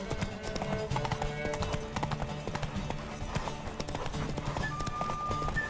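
Horse hooves clip-clop in a quick, steady rhythm in the video game The Witcher 3: Wild Hunt, with a brief whinny and faint game ambience underneath.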